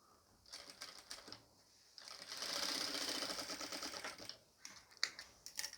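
A sewing machine stitching a pleat on nighty fabric, short bursts of rapid mechanical clatter around a longer steady run, close but fairly quiet.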